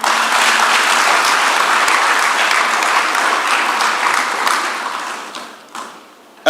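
Audience applause at a public lecture on TVET transformation in Africa, a loud sustained burst of many hands clapping that holds steady, then thins and fades out near the end.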